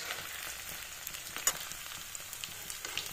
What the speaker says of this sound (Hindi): थोड़ा फ्राई करके निकाल लेती हूँ